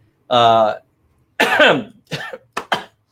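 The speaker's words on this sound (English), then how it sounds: "I just like coughed there." A single harsh cough, followed by a pause and then a few spoken words from the same nearby person.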